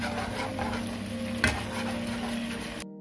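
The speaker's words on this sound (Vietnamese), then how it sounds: "Mình chỉ cần đun sôi kỹ một chút rồi mình cho nấm chín là được các bạn." Soy sauce and mushroom sauce simmering in a pan, a steady bubbling sizzle with a single brief clink midway, close and alone.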